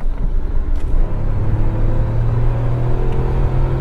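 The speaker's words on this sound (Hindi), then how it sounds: "AC of, first gear, red lining eight 6000 RPM" A 2022 Tata Nexon manual petrol engine revs hard in first gear toward its 6000 RPM redline, a loud steady rumble with a rising drone that holds close and continuous throughout, with no speech.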